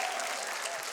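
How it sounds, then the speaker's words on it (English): A television studio audience claps for Luigi, a psychic parrot performer. The applause is dense and continuous, heard as a steady wash of many hands for one second. "Let's have a round of applause for Luigi"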